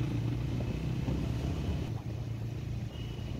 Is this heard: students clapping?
no